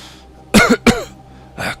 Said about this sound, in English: He bows his head and walks past, coughing the entire way as he goes.